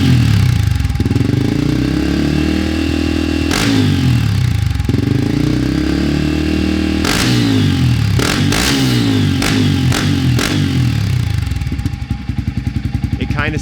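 A Toyota Land Cruiser 80 engine with a louder modified exhaust idles with a deep, throaty rumble and is revved sharply several times, each blip rising and falling close by, with the engine loud throughout.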